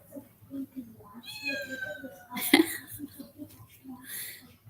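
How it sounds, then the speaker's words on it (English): A cat on a chair gives a clear, close meow for attention in the middle of the clip. It is surrounded by soft murmured speech and small handling noises indoors. "he's just over there on the chair, meowing, wanting my attention"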